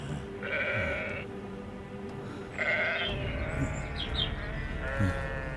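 Sheep bleat a few times, long wavering calls at moderate distance, with faint bird chirps and a low rumbling background.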